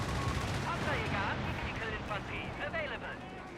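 Air support strafing run in Company of Heroes 3, a continuous loud barrage of rapid gunfire and explosions with rumbling battle noise throughout, under someone commentating.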